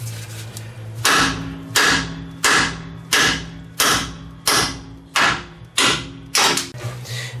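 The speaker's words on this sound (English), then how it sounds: "you can start using a smaller hammer so you're not hitting the whole outside there" Repeated hard metallic hammer strikes on a lower ball joint of a Ford F-150 truck, about ten evenly spaced blows, each loud and ringing briefly before the next.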